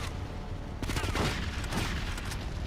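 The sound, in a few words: gunfire from GTA Liberty City Stories video game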